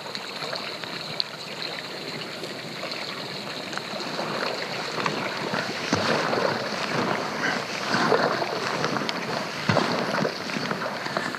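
Kayak paddling along the calm shore of Yellowstone Lake in a slight breeze, soft steady water swishes and gentle lapping with occasional paddle knocks, close and continuous with no talking.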